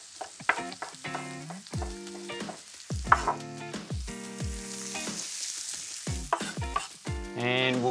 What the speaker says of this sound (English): I'll let this cook for a few minutes until the bacon's starting to get crispy.